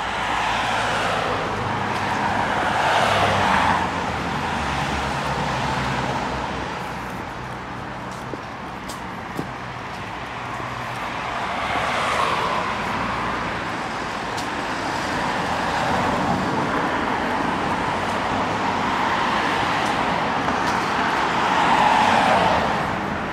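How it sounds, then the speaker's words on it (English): City street traffic in Sofia, Bulgaria: cars pass close by in slow swelling and fading waves over a constant roadway rumble, heard from the pavement on a walk. "A lot of traffic today."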